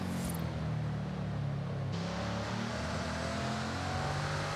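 A 2011 Bugatti Veyron Super Sport in Forza Horizon 5 on a track day, its engine droning steadily and loudly throughout under acceleration, with a sustained low growl and no voices.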